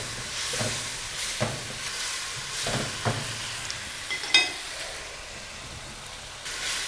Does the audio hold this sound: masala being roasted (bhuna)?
yes